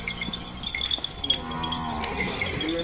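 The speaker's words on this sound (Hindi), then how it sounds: "वो बकरियों को बाहर निकाल रहे हैं" Livestock calls and bleats from goats being led out of a rural home to graze in the morning, with shuffling movement and a steady background hum; the animal sounds are intermittent and fairly close.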